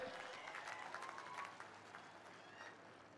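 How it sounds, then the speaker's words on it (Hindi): A crowd applauds at a BJP political rally in MK Hubballi, Karnataka, with faint, distant clapping that stays fairly steady for about three seconds. "सभी लोग ताली बजाकर उनको अभिनंदन दीजिए भाई"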